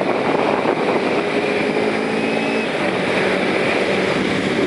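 Kawasaki Ninja 250 motorcycle being ridden, a steady broadband engine and wind roar holding constant throughout with no talk.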